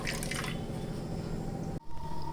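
Coconut milk drips and trickles steadily as it is strained, a continuous close liquid patter with a brief pause near the end.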